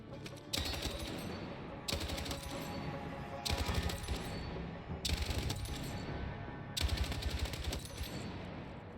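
Bursts of automatic gunfire at a firing range in the video game Battlefield 6, five sharp rapid-fire volleys separated by short pauses, loud and close with no talking.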